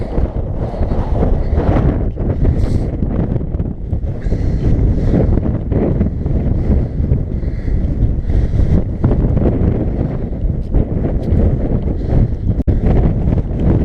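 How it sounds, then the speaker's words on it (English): Strong, continuous wind on the hilltop of Moel Famau roars and buffets against the microphone throughout, a loud, steady rumble with gusty surges and no pauses. "Wow, windy, very windy."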